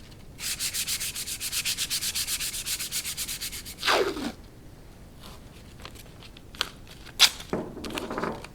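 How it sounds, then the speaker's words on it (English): Wood is sanded lightly by hand with 220-grit sandpaper, a close, steady rhythmic rasping of quick strokes lasting about four seconds, followed by a few softer scrapes and taps. "I'm going to sand it very lightly with 220"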